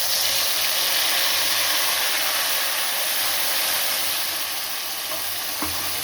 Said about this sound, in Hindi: अब मैं इसको अच्छे से भून लेती हूँ।